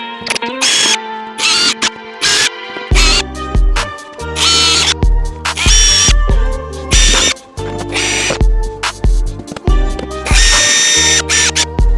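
A power drill bores holes for zip ties while an MK6 exhaust is fitted to an MK5 GTI, with loud repeated bursts of whirring separated by short pauses, close and with no talk.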